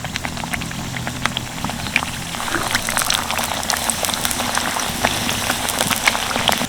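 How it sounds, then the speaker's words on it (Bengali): Papri dough discs frying a few at a time in hot white oil in a wok, for papri chaat: a dense, steady bubbling crackle with sharp spitting pops throughout, fairly close and continuous. "তেল গরম হয়ে গেছে এবার এক এক করে পাঁপড়ি ছাড়বো"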